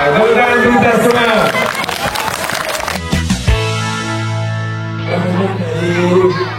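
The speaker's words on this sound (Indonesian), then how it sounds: "Tepuk kita semua." A crowd of children and adults clap together at a National Children's Day event at a special needs state school with firefighters; quick, dense claps mix with lively voices for about three seconds, then give way to a steady droning tone.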